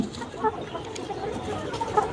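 Layer hens cluck softly and intermittently in a busy poultry coop, several birds at moderate distance amid low background noise.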